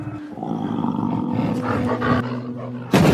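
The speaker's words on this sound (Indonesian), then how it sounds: "Muncullah para serigala yang kembali memburunya" Wolves attack in a film scene, a loud, dense stretch of snarling growls and roaring, close and aggressive, with an abrupt louder burst near the end and no talking.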